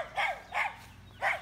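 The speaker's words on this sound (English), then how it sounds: "It's barking at me." A dog barks three times in separate bursts, fairly close, with short pauses between barks and a quiet background.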